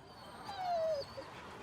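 A pet dog lets out a single thin, high whimper that slides downward, followed by a tiny faint yip, close by against a quiet background.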